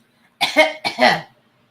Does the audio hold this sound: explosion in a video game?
no